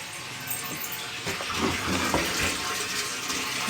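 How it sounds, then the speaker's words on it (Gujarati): Tap water runs in a strong, steady gush while a container fills in a village, a loud, continuous close splashing hiss with no talk over it. "જો અત્યારમાં પાછું પાણી આવી ગયું છે."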